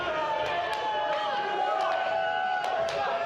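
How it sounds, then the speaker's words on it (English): A packed wrestling crowd jeers at a Victory Wrestling show in St. Catharines, a steady loud roar of booing and chatter with sharp claps and shouts popping out, under an announcer's voice. "Wow, listen to the jeers from this crowd."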